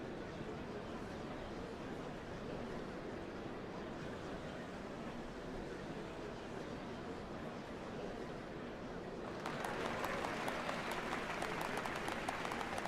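A large crowd applauds inside the Final Fantasy XIV: Dawntrail game, a dense, steady patter of claps that swells noticeably louder and crisper toward the end.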